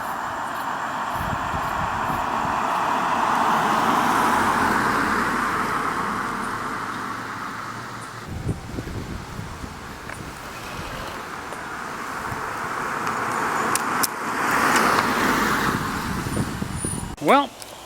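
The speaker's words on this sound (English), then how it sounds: "I'm going to ask my wife to get some driving shots of me going by." A Kia Soul passes by, its engine and tire noise swelling and then fading over several seconds, joined by other traffic and wind, with people talking faintly at times.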